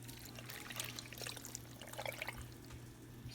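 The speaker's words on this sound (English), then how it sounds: "Right now I'm putting water," Water is poured from close by into a cooking pot of fish pepper soup, a faint, steady trickle and splash lasting a few seconds with no voices.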